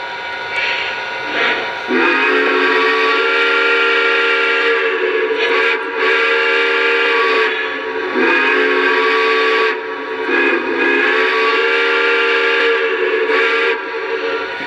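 A loud, chord-like steam whistle setting number 3 on a Lionel Conrail T-1 model train blows in several long blasts with brief breaks between, its bright tone steady and shrill throughout.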